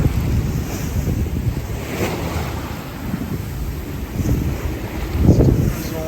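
Strong wind roars across the microphone while waves surge and break against a sailboat on an offshore passage in a steady 22-knot southwesterly with higher gusts, one larger wave swelling near the end.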